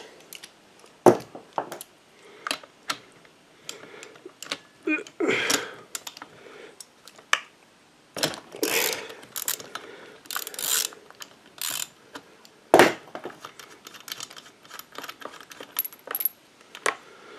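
A long spark plug wrench works the spark plug out of an Echo GT-225 gas string trimmer, giving sporadic metallic clicks and ratcheting ticks, close and fairly quiet.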